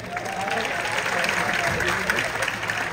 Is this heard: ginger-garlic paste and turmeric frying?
no